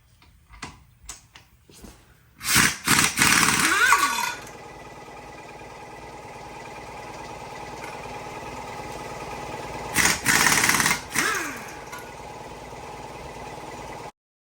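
An impact wrench with a wheel-lock key removes a wheel's lug nuts, firing two loud, close bursts of rattling hammering, each followed by a steady whirring spin-down; a few sharp clicks come before the first burst.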